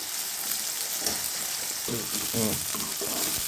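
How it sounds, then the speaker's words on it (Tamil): Onions sautéing in a pan give a steady, close hiss of frying with a few soft bubbling and stirring sounds in the middle, and no talk over it. "வெங்காயம் நல்லா வதங்கணும்."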